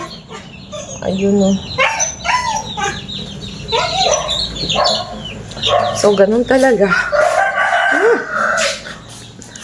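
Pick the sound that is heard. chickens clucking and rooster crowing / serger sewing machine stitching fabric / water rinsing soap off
chickens clucking and rooster crowing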